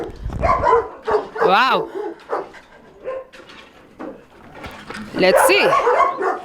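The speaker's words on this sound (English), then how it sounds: "So we are getting to the dogs. They are seeing us. They are getting excited." Dogs at a breeding kennel bark and whimper excitedly in short bursts, close by and loud, with someone talking briefly over the commotion.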